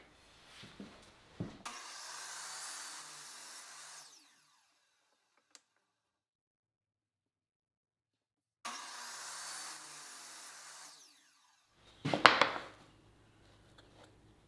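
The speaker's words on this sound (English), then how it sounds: "let's go ahead and let's cut the miter first" A saw makes two miter cuts through wooden moulding, each a buzzing cut of about two and a half seconds separated by silence, with a sharper rasping scrape near the end.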